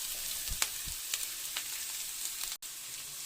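Grated raw papaya goes into a frying pan for poriyal, a quiet steady sizzle broken by a few soft thuds and clinks, close and without talking.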